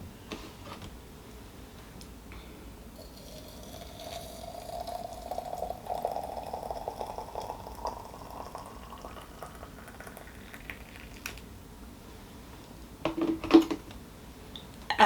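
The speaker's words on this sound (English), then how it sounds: "my tea kettle just beeped to tell me that it is boiling" Water simmers and bubbles quietly inside a kettle, a soft steady rumble with a rising hiss and a few clicks near the end.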